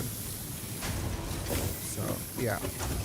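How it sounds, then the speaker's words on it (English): A loud pet cat named Itachi calls out in brief, strained, rising cries close by, mixed in with a person talking over a steady background hum. "I apologize for my cat."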